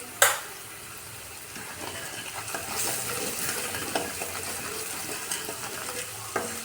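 Turmeric and green chillies fry in oil for kadhi, a soft, steady sizzle with occasional stirring clinks and a sharp knock at the start, fairly quiet and free of talk.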